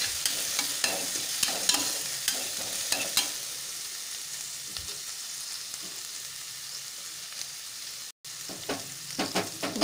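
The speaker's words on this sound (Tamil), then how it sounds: "இஞ்சி பூண்டு ஆட் பண்ணியிருக்கேன், இது நல்லா வதங்குது." Ginger garlic paste sautéing in hot oil for a mutton liver and brinjal gravy, a steady close sizzle broken by repeated scraping stirs, with no talk.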